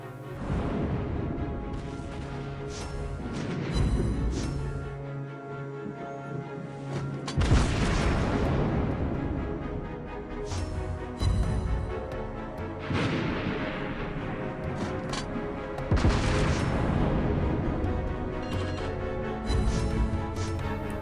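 Naval guns boom repeatedly in World of Warships Blitz while playing the USS Buffalo, loud layered blasts and crashing impacts recurring every few seconds over continuous game music and rumble.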